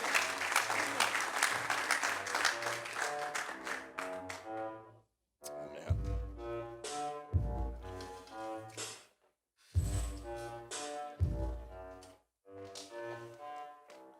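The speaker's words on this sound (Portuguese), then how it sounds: "eu peço para dar uma salva de palmas" A church audience at a Lisbon congregation's session claps in a steady wash of applause, mixed with music and sung tones that continue after it, with brief pauses between passages.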